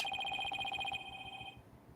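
A cell phone rings in the Apollo Justice video game, a rapid trilling electronic bell tone that pulses for about a second, then holds briefly and fades out.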